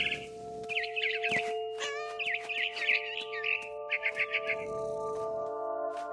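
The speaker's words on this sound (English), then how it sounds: "It was a barn swallow going back to her nest." A video game barn swallow chirps repeatedly in short, bright twittering bursts throughout, fairly close and clear, layered over sustained tonal background music.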